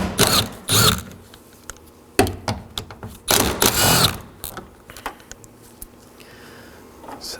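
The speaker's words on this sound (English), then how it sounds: "Now we're going to find 3 10mm nuts. I'll remove 2 for now." Ratcheting and mechanical clicks from a socket wrench loosening 10mm nuts holding a 2013-2019 Nissan Sentra side mirror, in several bursts with pauses and handling clatter between, close and fairly loud, with no talking.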